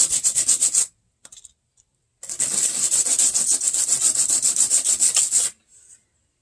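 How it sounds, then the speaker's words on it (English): A small wooden piece is rubbed on sandpaper to smooth it, giving close, loud scratchy strokes in a quick rhythm: a short burst, a pause with a few light taps, then a longer steady run of back-and-forth strokes. "run it on a piece of sandpaper just to smooth it out a little bit"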